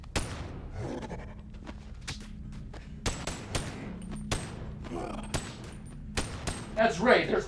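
Gunfire in a VR video game, a rapid series of sharp shots and thuds in irregular bursts, with a person talking over the action.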